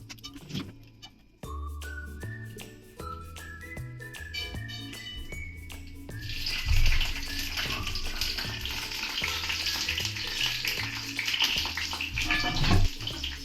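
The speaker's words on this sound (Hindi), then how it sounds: "चावल फ्राई कर रहे हैं।" Rice frying in a pan, a steady broadband sizzle that swells louder partway through, over a low background hum with music-like tones.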